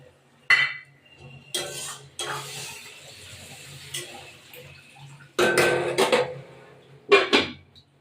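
A metal lid clanks onto a cooking pot of pabda fish curry in mustard sauce, with a few sharp, separate knocks and scrapes of cookware, loud and close, between quiet pauses.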